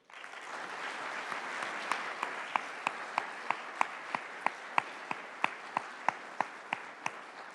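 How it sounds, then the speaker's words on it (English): Audience applause at Irvine's State of the City address, a steady wash of many hands clapping with sharp, regular louder claps cutting through near the front, sustained throughout with no talk. "So please stand and let's give them a round of applause."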